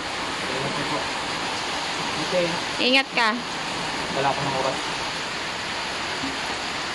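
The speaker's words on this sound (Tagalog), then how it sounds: "sobrang lakas talaga ang hangin at ulan." Strong typhoon wind and heavy rain roar as a steady, loud broadband wash throughout, with a person talking briefly over it in the middle.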